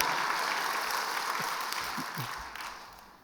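Church congregation clapping during a Sunday worship service, a dense, continuous wash of applause that holds steady and then fades slightly toward the end, with no talk over it.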